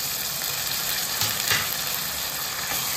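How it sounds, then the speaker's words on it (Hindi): Chopped tomatoes drop into sautéed onions in a hot pan, raising a loud, steady sizzle with brief stirring scrapes, close up and with no voices. "प्याज अच्छे से भून गया है, अब हम इसमें ऐड कर रहे हैं टमाटर।"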